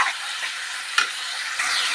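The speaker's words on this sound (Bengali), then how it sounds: "দিয়ে ফের কিছুক্ষণ ভালোভাবে নাড়বো।" Meat filling stirred in a hot pan, a steady sizzle of frying broken by a few soft scrapes and clicks of the spoon, close and fairly quiet.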